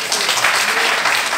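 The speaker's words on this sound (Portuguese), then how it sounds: "Jesus merece tuas palmas." A church congregation applauding, a dense, loud wash of clapping from many hands that carries on steadily through the short stretch, with voices mixed in.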